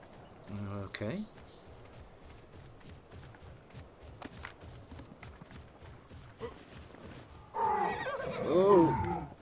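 A small Equus horse in the ARK Survival game neighs loudly near the end, a harmonic whinny after a quiet stretch of faint footsteps and background game ambience, with a brief short burst early on.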